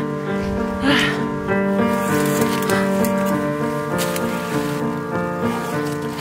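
Rain falls steadily during a solo trek in Albania, a close, continuous patter on surfaces nearby, heard over a constant background tone.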